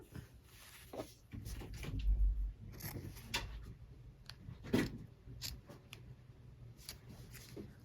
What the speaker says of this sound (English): So I'm just going to go through and snip all of those.